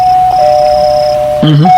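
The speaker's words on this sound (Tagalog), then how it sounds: "Uy, may nag-doorbell ay." A steady electronic tone hums throughout, then a two-note chime rings near the end, loud and close.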